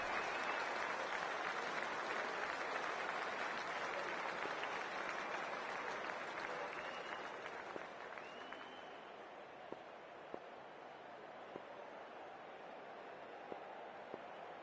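A large cricket crowd applauds at a T20 World Cup match between Pakistan and the Netherlands, a dense, sustained roar of clapping that eases slightly toward the end, with a few sharp claps and faint tones above it.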